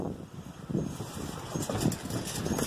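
Low, blustery rumble of wind buffeting a microphone outdoors in windy, rainy weather, rising and falling in gusts for a few seconds.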